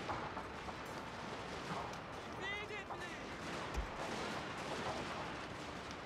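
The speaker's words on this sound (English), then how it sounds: "He's actually using suppression fire." Distant suppression fire in the Total War: Shogun 2 Fall of the Samurai battle game: scattered, faint crackling shots and a low thump sit under a dense wash of battle noise.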